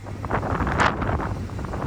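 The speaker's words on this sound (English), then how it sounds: "It's windy." Wind rumbles and buffets the microphone steadily, with a slightly stronger gust near the middle.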